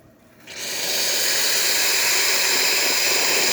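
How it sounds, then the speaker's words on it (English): An Alex Duetto espresso machine dispenses hot water, starting with a faint quiet moment before a loud, steady rushing hiss surges in and holds evenly at close range. "And now hot water."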